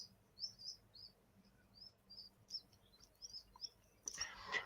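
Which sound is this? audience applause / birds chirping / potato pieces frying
birds chirping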